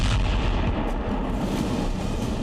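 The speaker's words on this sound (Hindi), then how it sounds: "इंडस्ट्रियल जोन में धमाका हुआ।" A distant, heavy rumbling boom from an explosion in an industrial zone in Dubai, a dense continuous roar with rolling low-end energy that never separates into distinct blasts and carries no voices.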